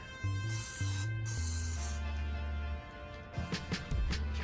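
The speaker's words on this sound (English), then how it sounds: "2 sprays." A spray bottle gives two quick hissing spritzes in close succession during a cleaning demonstration, with a faint steady tonal hum underneath.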